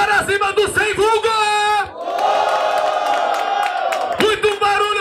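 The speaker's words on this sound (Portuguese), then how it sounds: "Muito barulho para cima do Sem Vulgo!" Crowd at a Brazilian hip hop rap battle semifinal in Caraguatatuba roars and shouts for the rapper Sem Vulgo, a loud sustained burst of cheering between stretches of a host talking energetically.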